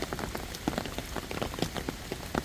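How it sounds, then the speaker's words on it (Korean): Heavy rain pours down in a forest, spattering densely on surfaces with fast irregular drops and louder splashes, a continuous close downpour with no voices. "지금 비가 엄청나게 많이 쏟아지고 있습니다"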